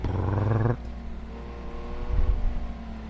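A low-speed race car engine in Project CARS 2 on PS4 at a Spanish circuit revs hard and buzzy, cuts off abruptly to a lower drone, then swells again briefly near the end.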